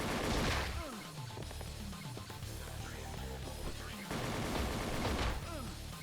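Dense gunfire crackles through a busy game soundtrack during a Yakuza PS2 boss fight, bursts of shots and crashes layered over constant loud music and effects.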